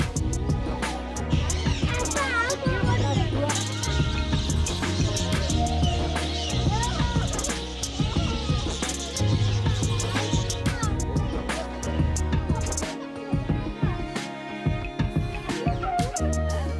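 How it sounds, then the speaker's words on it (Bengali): Caged birds in the Nandankanan zoo aviary cluck, chirp and call over one another in a dense, continuous chorus, some close and some farther off, with no clear pause across the stretch. "এখানে চারিদিকে খালি পাখি আছে"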